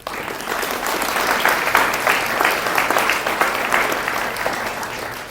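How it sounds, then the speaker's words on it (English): Audience at a Cornell makeathon in New York City breaks into a sustained round of applause, dense steady clapping filling the room at an even level for several seconds with a faint murmur of crowd noise. "a round of applause for everyone who did work today"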